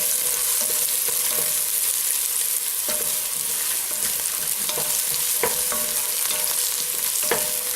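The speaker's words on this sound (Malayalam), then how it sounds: "നമ്മളിപ്പോ ഇഞ്ചിയും വെളുത്തുള്ളിയും പച്ചമുളകും എല്ലാം ഇട്ട മിശ്രിതം നമ്മളിപ്പോ ഇളക്കുകയാണ്." Ginger, garlic and green chilli fry in a pan for a Kerala fish curry, a steady sizzle running throughout while a spoon stirs and scrapes with intermittent sharp clicks against the pan.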